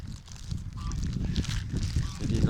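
Geese honk repeatedly in cold weather, a cluster of nasal calls over a low rumbling background, fairly close and growing louder toward the end.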